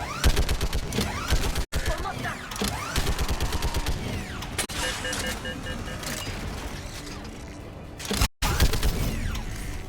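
Turret gunfire in the video game Mass Effect 3, rapid bursts of mechanical shots in a fast, dense rhythm with brief pauses, loud and close, with occasional metallic clanks.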